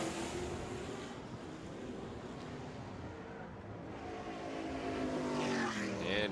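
A race car engine revs up in the distance at Circuit Trois-Rivières, rising pitch climbing through the gears, faint at first and growing louder toward the end.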